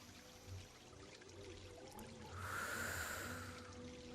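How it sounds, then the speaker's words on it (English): A single deep inhale drawn in during a guided breathing practice, a close, airy rush that swells about halfway through and slowly fades, over a soft, steady low tonal background with no talking. "I breathe in."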